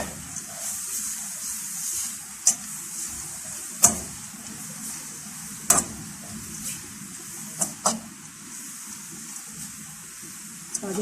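Carrots, cabbage and capsicum cook in a pan alongside chicken, a steady soft sizzle and hiss with several sharp clicks and taps of a utensil against the pan, while a voice talks quietly over it.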